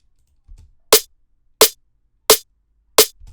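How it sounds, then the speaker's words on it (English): Four evenly spaced hits of the main snare sample from a dark drum and bass track, each a crisp, bright crack with a quick decay, heard alone with faint low thuds before the first and after the last. "So this is the main snare."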